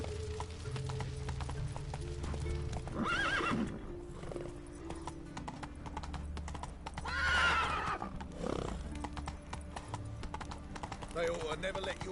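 Galloping hooves from Roach, the horse in The Witcher 3, pound on without a break, and loud neighs ring out twice over game music while someone speaks.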